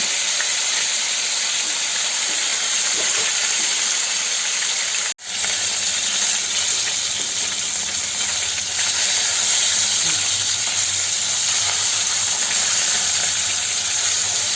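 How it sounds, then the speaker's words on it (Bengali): Katla fish pieces fry in a pan with a loud, dense, continuous hiss and sizzle, interrupted by one brief dropout partway through. No one speaks. "সব মাছগুলো আমার ভাজা হয়ে গেছে, এবার তুলে নিচ্ছি"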